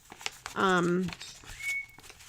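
An African grey parrot gives a short run of bird vocalizations, a warbling call with one thin sustained whistle near the end, close and fairly loud.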